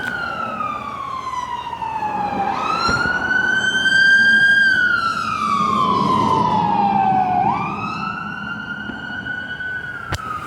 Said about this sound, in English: Let that siren go past.